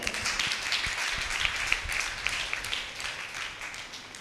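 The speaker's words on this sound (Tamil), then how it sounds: "கைத்தட்டி அப்பாவுக்கு." Church congregation clapping hands together, a brisk, fairly close ripple of claps with a few sharper individual claps standing out, fading slightly toward the end.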